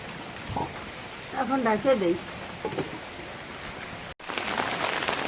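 Rain falls in a constant soft hiss, with a person speaking briefly over it partway through, then a short cut before the downpour continues.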